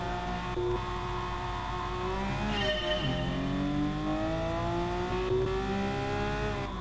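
A Porsche 911 RS racing car in Gran Turismo Sport holds a loud, steady engine drone that climbs in pitch through the gears, with a brief dip at a shift partway through.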